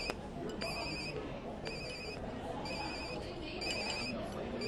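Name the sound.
phone ringing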